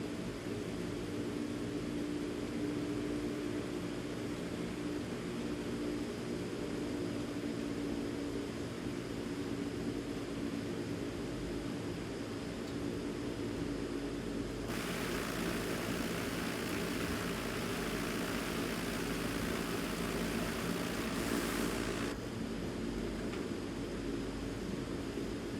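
A Cessna 172 engine drones steadily in a flight simulator game during a runway approach, a faint, even hum with a brief burst of added hiss partway through and no talking.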